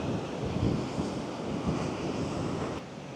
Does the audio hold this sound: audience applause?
no